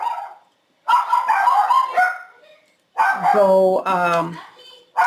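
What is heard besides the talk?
dogs barking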